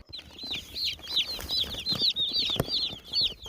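Young broiler chicks packed in a mail shipping box peep constantly in rapid, high, overlapping chirps, close and fairly loud, with faint rustling beneath.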